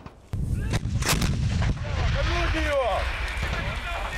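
An artillery battery fires shells, with loud booming blasts near the start and middle followed by rumbling echoes, while a voice talks over part of it.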